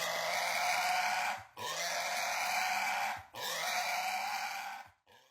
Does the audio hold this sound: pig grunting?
yes